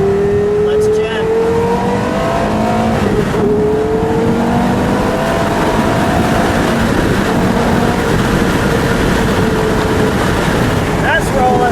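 A yellow 2005 Porsche Carrera GT engine revs loudly and close by, rising and falling in steady pitch sweeps that fill the whole stretch, with a voice talking faintly underneath.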